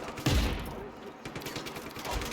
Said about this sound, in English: While I'm being gunned at.